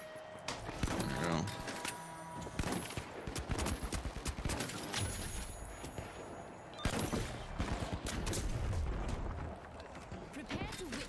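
A turret fires in The Finals, with rapid bursts of automatic gunfire and explosive booms mixed with chaotic arena noise, alongside occasional voices.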